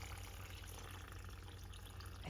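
Homemade broth pours steadily from a jar into a pot of Segedin goulash, a soft continuous liquid rush with a faint watery trickle, heard close and alone.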